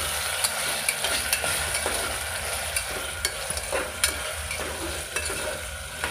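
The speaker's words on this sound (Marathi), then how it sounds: "आता आपण मसूर टाकून घेऊ। मसूर भिजू घातला होता," Soaked masoor lentils are stirred in a hot pan for masale bhat: a close sizzle with repeated scraping clicks of the spoon against the pan, and no talking.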